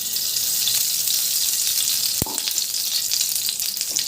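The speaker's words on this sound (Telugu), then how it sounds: "జీడిపప్పుని కిస్మిస్ని వేసుకుని వేయించుకోండి. కొంచెం నెయ్యి వేసుకుని" Cashews and raisins fry in ghee for ravva laddu, making a steady, close, crackling sizzle with one brief clink partway through and no voices.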